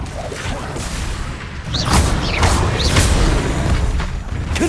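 Spell explosions from the video game Hogwarts Legacy go off as a loud, dense run of booming bursts and crackling blasts, several in quick succession.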